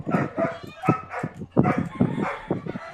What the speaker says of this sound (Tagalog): Ang ingay ng aso ko eh.